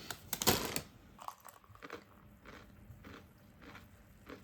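Crispy, lightly salted potato chips being bitten and chewed up close, a loud crunchy burst at first followed by softer scattered crunches, with no talking.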